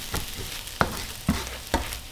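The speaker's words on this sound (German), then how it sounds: "Ich versuche auch immer so viel wie es geht noch von dem Rest irgendwie abzukratzen, damit ich die Pfanne nicht mehr so doll sauber machen muss" Scraping leftover food from a frying pan: a few distinct scrapes and clacks at an irregular pace, close and fairly loud, with light sizzling between them and no talk.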